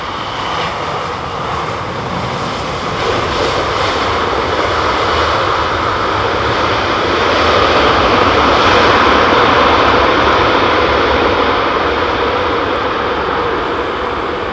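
Jet airliner engines roar loudly and steadily at London Heathrow, a broad sustained rumble that swells slightly toward the middle and holds without a break.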